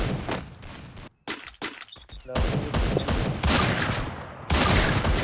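Barrett M82B sniper rifle shots in a video game, several loud, close blasts with sharp attacks and dense rumbling tails, broken by a brief near-silent gap, over continuous game noise.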